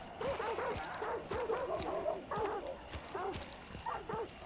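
Agitated hunting dogs in a video game bark and yelp in a steady, repeated series of sharp barks throughout, fairly close, over a low background hum.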